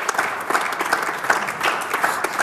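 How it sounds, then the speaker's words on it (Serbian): A TV show studio audience applauds a guest named Sanja. Many hands clap continuously and fairly loudly, with a lively, slightly pulsing rhythm and no voices on top. "Molim vas, jedan aplauz za Sanju"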